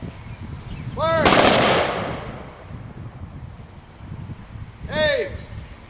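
Honor guard rifles fire a volley at a Memorial Day ceremony outdoors in Morenci, Michigan, one loud crack that echoes and fades, while shouted commands are heard before and after.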